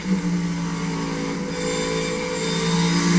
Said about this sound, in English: you heard that downshifting from Joey Logano